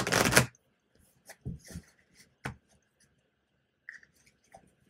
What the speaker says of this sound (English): One more shuffle for good measure here.